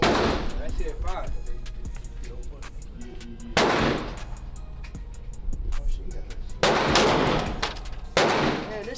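Loud gunshots at a shooting range, several heavy blasts spaced a few seconds apart with smaller cracks between, ringing out close over background noise and people talking.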